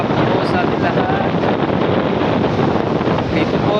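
Heavy wind and rain in Balingasag, Misamis Oriental, Mindanao, with waves nearby, form a loud, dense, unbroken roar buffeting the microphone.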